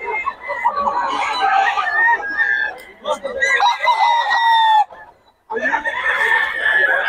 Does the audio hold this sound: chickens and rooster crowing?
yes